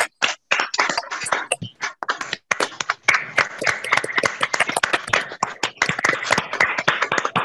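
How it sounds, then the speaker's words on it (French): Sparse, uneven hand clapping from a few online participants, sharp individual claps with gaps between them, picking up into a thicker patter toward the end, with no talking over it. "ouvrons tous les micros et on va acclamer, applaudir"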